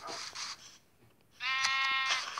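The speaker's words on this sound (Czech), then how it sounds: "Nikolko, tam je ovečka, ostříháme ju, co říkáš?" Sheep bleating in the Minecraft video game, a short close bleat followed by a pause and then a longer wavering bleat, clear against a quiet background.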